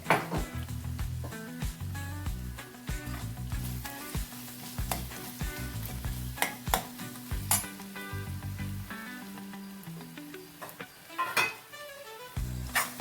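Chicken curry sizzles steadily in a pan, a continuous close frying hiss with occasional clinks of a spoon stirring against the metal.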